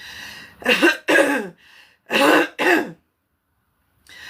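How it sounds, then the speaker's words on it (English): One person coughs and clears their throat up close in four harsh bursts, grouped in pairs, followed by a short silence and a faint breath. "it's just inconvenient cough"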